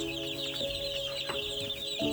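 Ten-day-old broiler chicks peep and cheep continuously in a brooder, a dense high-pitched chorus with a few louder calls standing out over a low background hum.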